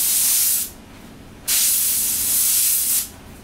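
An airbrush hisses in two bursts while lettering, a loud close spray for about half a second, a pause, then a longer stretch of spraying that cuts off, with no talking.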